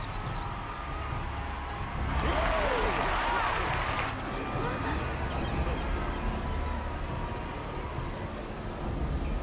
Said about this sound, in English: How gracious of you all to cheer the lesser claimants.